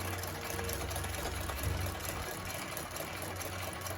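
A Singer 20U style industrial sewing machine runs steadily while stitching embroidery, giving a continuous close whirring drone with a fast, even mechanical pulse and no break.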